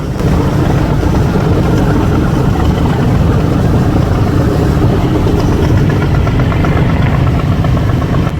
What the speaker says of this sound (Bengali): অনেক আওয়াজ হইতেছে কিন্তু কারণ বুঝতেছেন এই যে এই যে ছোট একটা লঞ্চ ডান পাশে আর বাম পাশে হচ্ছে সুন্দরবন পনেরো এই দুই লঞ্চের সাইলেন্সারের আওয়াজ